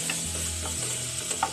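Tomatoes stirred into a frying onion masala for mixed vegetables: soft continuous sizzle with a low hum underneath and a couple of light spatula scrapes near the end.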